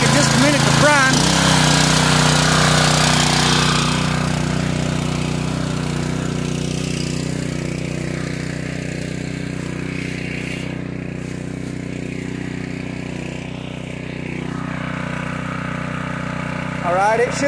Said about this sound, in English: we'll hear the sound of the engine change in just a minute